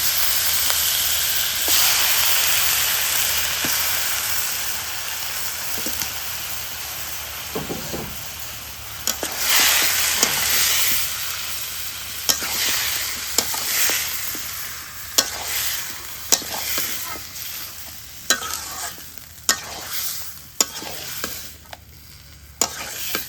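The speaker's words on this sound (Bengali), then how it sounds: "মশলা কষানো হয়ে গেছে, এবার মাংস দিয়ে দিই।" Beef added to fried spice paste for Bogura-style aloo ghati, a loud steamy hiss that swells as the meat goes in, followed by repeated scraping and clattering stirs over continuous sizzling.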